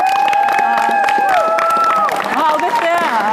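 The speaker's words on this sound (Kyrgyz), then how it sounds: "кол чаап коелу" A Kyrgyz TV studio audience applauds and cheers a singer, a burst of clapping mixed with music and crowd noise that stays loud and steady throughout.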